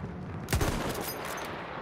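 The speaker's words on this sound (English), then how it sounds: "Let's give some shots a try now." A gunshot from the Battlefield 1 Kaiserschlacht map rings out once, a sharp crack with a thudding low end and a short reverberating tail, set over constant battlefield ambience.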